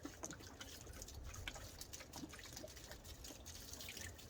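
Water pours and trickles steadily onto soil and rhubarb leaves, a soft continuous splashing heard up close.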